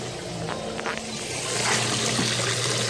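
Water trickling onto soil while tea is being prepared, a faint steady dribble under light background hum, swelling slightly near the end.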